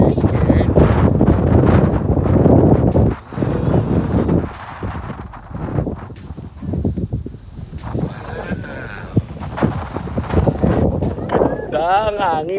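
Strong wind buffets a handheld phone microphone at a high lookout in Guam, producing loud, continuous rumbling gusts while people talk over it.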